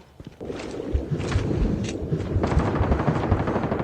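Gunfire rattles in Call of Duty Mobile gameplay, rapid bursts of automatic shots layered over a rumbling background, fairly loud and continuous across the moment.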